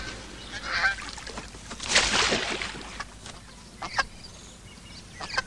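Loud honking from a goose in an outdoor setting, a harsh burst at the middle with scattered fainter calls and rustling noise around it, no voices.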